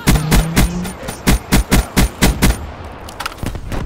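Rapid bursts of gunfire in a multiplayer shooter as a player fires at a ship dropping wraps: about eight loud, evenly spaced shots with a low hum at the start, then a few fainter cracks near the end.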